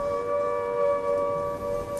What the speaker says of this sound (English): And then the all-clear siren sounded.